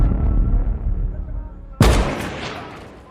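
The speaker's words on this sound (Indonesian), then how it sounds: "Mustafa menembak satu tentara Amerika." A single sharp, loud gunshot from the film American Sniper cracks out and rings off, breaking through a low rumbling background.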